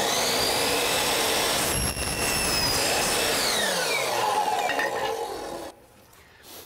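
A power saw cuts wood for a porch rebuild, a loud steady whining roar held for several seconds before it abruptly cuts off and winds down.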